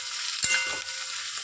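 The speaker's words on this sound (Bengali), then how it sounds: "এবার এটাকে আমি একসাথে ভাজা করে নেব" Shrimp fry in a pan with salt and turmeric, giving a steady bright sizzle with a brief stirring scrape partway through.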